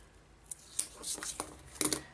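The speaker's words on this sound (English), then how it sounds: "I'm just going to use my scissors" Crisp snipping of scissors comes up close, several quick cuts in an uneven rhythm, quiet and dry with no talking.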